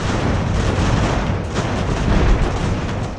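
Cannon fire in the naval sailing battle game Ultimate Admiral: Age of Sail, a continuous loud rumble of booming broadside shots blending together, with no clear pauses between blasts.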